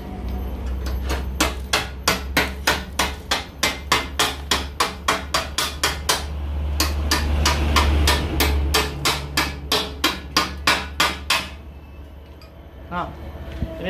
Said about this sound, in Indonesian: selanjutnya kita buang truknya atau tai lasnya.